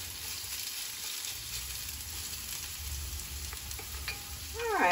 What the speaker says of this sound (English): after about 2 minutes of sauteing, we will add garlic.